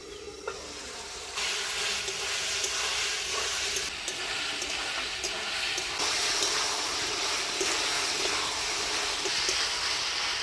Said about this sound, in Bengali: মশলা দিয়ে পেঁপেটা ভালো করে কষিয়ে নিলাম